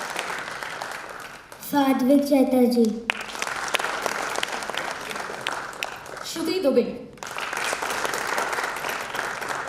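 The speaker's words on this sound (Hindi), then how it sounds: "जोरदार तालियां" Applause from a theatre audience at a Hindi staging of Badal Sarkar's play rises and falls in steady bursts, while an announcer's voice calls out names over and between the clapping.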